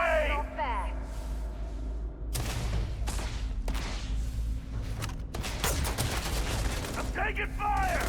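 Loud gunfire erupts in the video game Starfield during a firefight, with sharp repeated shots and bursts over a steady low background hum. Voices call out amid the shooting.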